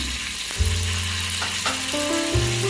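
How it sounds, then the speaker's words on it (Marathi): Whole spices, bay leaves, green chilli and onion frying for mutton biryani, a dense close sizzle with low hums and occasional stirring knocks throughout. "आणि कांदा लालसर असा भाजून घेणार आहोत"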